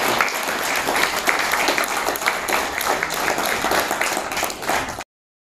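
An audience applauds in a sustained round of clapping at a product launch event, steady and fairly loud throughout before cutting off abruptly.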